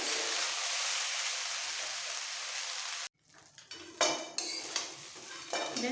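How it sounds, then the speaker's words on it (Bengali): Cooked rice being fried in a large pan for party-style fried rice pulao: a loud, dense sizzle for a few seconds, then an abrupt drop to quieter stirring and scraping of utensils against the pan. "এইভাবে ফ্রাই করে নিতে হবে রাইসগুলোকে"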